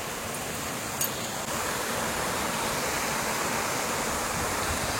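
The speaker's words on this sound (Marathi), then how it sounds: "अशी फ्लो होऊन ती रिव्हर ह्या बाजूला येते" Dense, steady rushing of clear flowing river water in Meghalaya, loud and continuous, a broad roar with no voices.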